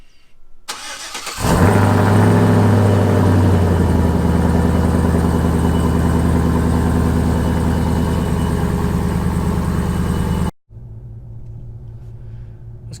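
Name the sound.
truck engine cold start and idling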